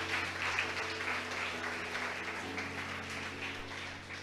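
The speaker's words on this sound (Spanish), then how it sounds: "Vamos a darle un aplauso grande a Dios" Church congregation gives a big round of applause, a faint, distant, steady patter of many hands clapping with no speech over it.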